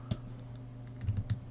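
Computer keyboard keys tapped while drawing in Scratch: a few soft, close clicks in an irregular rhythm over a low steady hum, with no talking.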